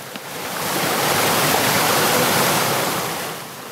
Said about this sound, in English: the creek's running a little dirtier than normal.